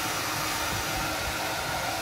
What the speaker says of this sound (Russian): То есть мы сушим феном.